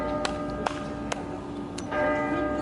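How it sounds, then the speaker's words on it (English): Church bells ring at six o'clock in a small town centre, several clear strikes spaced about half a second apart over a sustained ringing hum, heard from a moderate distance. "Can you hear the bells?"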